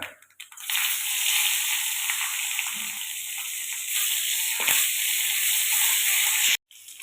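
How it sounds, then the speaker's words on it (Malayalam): Mustard seeds and curry leaves sizzle in hot coconut oil, a steady close hiss with faint crackling that runs for several seconds and cuts off abruptly near the end. "വെളിച്ചെണ്ണ ചൂടായിട്ടുണ്ട്. കുറച്ച് കടുക്"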